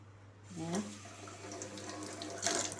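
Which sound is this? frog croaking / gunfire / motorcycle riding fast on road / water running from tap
water running from tap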